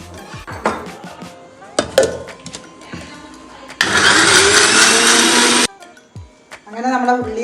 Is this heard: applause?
no